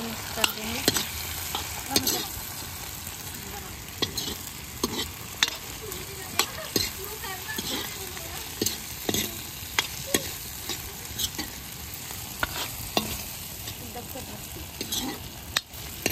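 A spoon scrapes and clinks in a kadai as potatoes are stirred with coriander powder, salt and turmeric over a soft, steady sizzle of frying, with irregular stirring knocks throughout.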